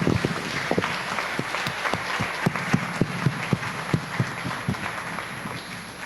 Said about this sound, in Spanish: Denle un aplauso a nuestros hermanos.